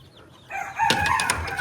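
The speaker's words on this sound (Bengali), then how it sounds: "সাদা কালার জুটিয়ালা মুরগ অনেকে খুঁজতেছিলেন যে এই মুরগটা কই" Deshi chickens on a Bangladeshi poultry farm: a rooster crows once, loud and close, joined by hens clucking, after a quieter stretch of farmyard ambience.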